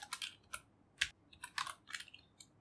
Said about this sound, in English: let me just first type the code